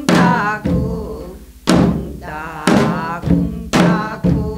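A Korean janggu drum beats the noraetgarak rhythm for a Gyeonggi folk song, with deep resonant strokes and sharper slaps repeating in a steady loping pattern. Each hit rings loud and close with decaying tone.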